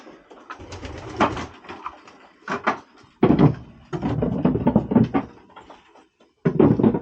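Soft, low cooing from racing pigeons in several bursts with short pauses, along with some rustling and knocking nearby, and no speech.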